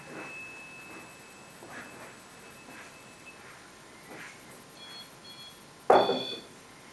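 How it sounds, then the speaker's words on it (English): EM pump ghost-hunting device emitting a thin, steady electronic tone with faint intermittent beeps over quiet room hiss, followed by a brief louder burst near the end. "The other noise that you hear is my EM pump."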